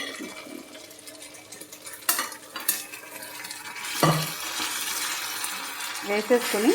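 Boiled chicken is tipped into a pan with green chillies and curry leaves, bringing a few metal scrapes and clanks, then a louder rising sizzle as the pieces hit the hot oil, with a person talking throughout.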